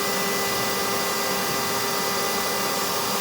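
A vacuum cleaner sucks air out through a cushion cover stuffed with a cushion, making a steady, loud, unbroken whooshing roar throughout with no talking.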